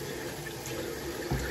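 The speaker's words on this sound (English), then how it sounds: "I just took some water on my hand and just wet my face." Water runs steadily from a bathroom tap in a morning routine, a constant close splashing hiss with a brief louder splash near the end, no voices.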